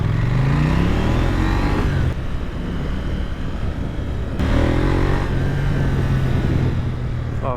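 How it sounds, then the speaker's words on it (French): A 2024 KTM 990 Duke with its 947 cc twin-cylinder engine accelerating hard: loud, close engine roar rising in pitch through gears, with abrupt dips at shifts, no talking. "Histoire d'aller réveiller un petit peu le bruit de ce gros bicylindre de exactement 947 cm3"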